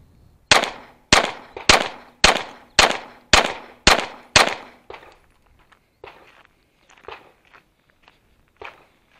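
Pistol shots fired at a target 25 yards away on a shooting range, eight loud, evenly spaced cracks in quick rhythm, followed by fainter scattered pops from other shooters nearby.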